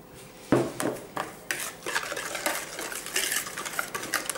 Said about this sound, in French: j'incorpore ma farine plus ma levure chimique en même temps